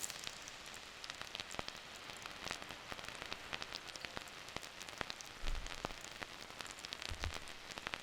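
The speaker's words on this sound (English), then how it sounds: "with this synthetic rain sound, let's just show you something here." Synthesized rain from a Polygogo oscillator patters softly and steadily, a dense hiss of tiny drops with occasional louder crackles.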